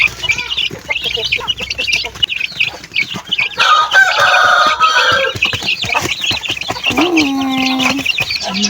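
A mother hen clucks repeatedly in a backyard poultry setting with her ten young chicks, other fowl calling and a rooster crowing around her, busy and fairly close with steady layered farm-bird sounds.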